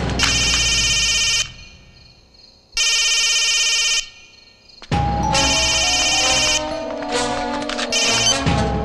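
A telephone ringing during a call attempt in a movie scene, loud repeated electronic ring bursts with short gaps, the last burst blending into dramatic background music.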